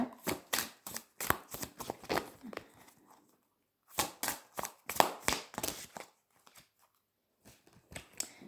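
Oracle cards from the Odyssée intérieure deck being shuffled by hand, quick close rhythmic riffles and slaps in two clusters with a short pause between, quiet and without talk.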